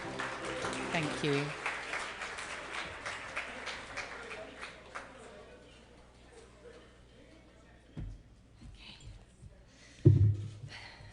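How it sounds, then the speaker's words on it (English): Audience applause at the Jewish Schools Awards 2020 ceremony, a loud burst of many clapping hands that gradually fades to scattered claps, with a presenter speaking briefly near the end. "Let's give her a round of applause, shall we?"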